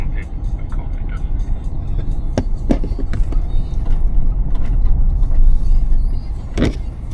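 Camper van driving along Black Rock Sands beach, a close, steady low rumble of engine and tyres with scattered clicks and knocks, and a voice speaking over it.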